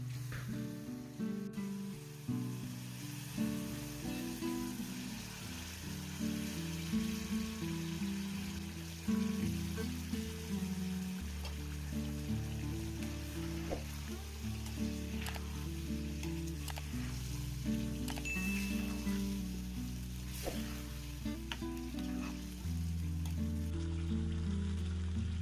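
Chicken liver sizzling in frying masala and oil for a Sri Lankan ereal piratal, a steady soft crackle that carries on throughout, with no talk.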